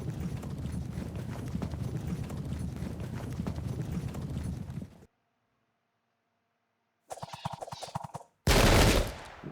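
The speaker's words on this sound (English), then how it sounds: "Disrupted in one volley, and they only had to turn around and shoot to achieve it." Cossack musket volley in the Pike and Shot strategy game, a dense rattle of clattering gunfire for about five seconds, then silence, then two short bursts of shots, the last loud and harsh.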